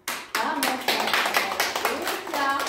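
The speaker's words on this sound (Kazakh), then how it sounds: "Қанеке өзімізге шапалақ ұрайық" A group of kindergarten children claps for themselves during a class lesson, a steady burst of many hands clapping together that starts abruptly and keeps going at an even, lively level.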